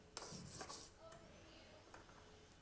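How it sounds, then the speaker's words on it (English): Sandpaper rubs briskly across the edge of a vintage-style ring, a few close, quiet scratchy strokes up front that fade into lighter taps and brushes. "Hit it with our sandpaper."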